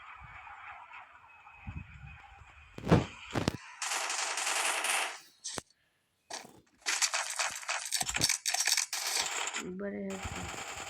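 Bursts of rapid gunfire ring out in a shooter video game during a long-range headshot, with sharp clustered shots, brief silent gaps and clattering impacts between them.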